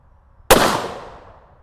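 A single loud shot from a Ruger American Ranch rifle cracks out sharply after a quiet moment, then rings off in a long fading decay with no talk.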